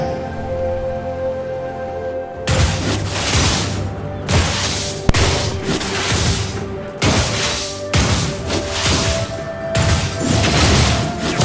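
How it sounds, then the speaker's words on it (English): Turret crumbling in League of Legends, a series of heavy crashing bursts and rumbles repeating in waves over several seconds, loud and dense with debris-like noise. "Your team has destroyed a turret"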